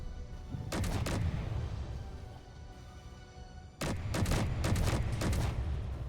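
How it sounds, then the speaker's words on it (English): Weapons and turrets firing in the space game Space Engineers, two loud bursts of rapid booming shots with a rumbling lull between them. "Shooting weapons now."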